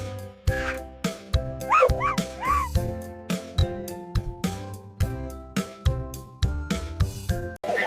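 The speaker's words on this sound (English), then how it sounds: "This is a dog." A dog gives a few short yips and barks mixed into a cheerful children's music track, the barks bright and close, spaced between the beats.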